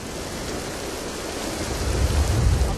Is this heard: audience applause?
no